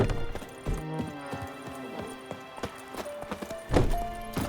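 Roach, the horse from The Witcher 3, trots with steady clip-clopping hooves close by, the rhythmic beats sounding over a soft musical bed, with a brief louder burst near the end.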